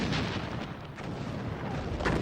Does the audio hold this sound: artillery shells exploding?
yes